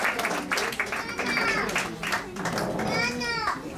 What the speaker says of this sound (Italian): quindi un grande applauso